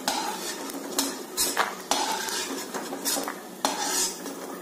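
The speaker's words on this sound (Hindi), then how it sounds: "मूंगफली अच्छे से भून चुकी है, इसको मैं निकाल लेती हूँ" Roasted peanuts lifted out of a hot oil pan, with several sharp metal scrapes and clinks of a utensil against the pan over a soft sizzle, close and fairly loud.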